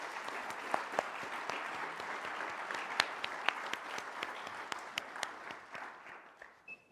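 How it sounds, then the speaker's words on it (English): An audience at a panel discussion applauds the panelists, moderate steady clapping with a few sharper individual claps standing out, fading away toward the end. "let's have a round of applause for all of our panelists before we move on to Q&A."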